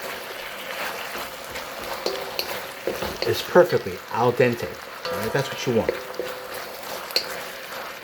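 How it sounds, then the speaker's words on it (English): Baby bok choy and roast pork being stir-fried in sauce in a hot wok give a steady sizzle and occasional stirring clatter under someone talking throughout. "Keep on stir frying. Get all that sauce and juice."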